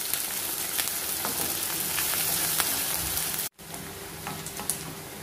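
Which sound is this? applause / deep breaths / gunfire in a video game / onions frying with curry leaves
onions frying with curry leaves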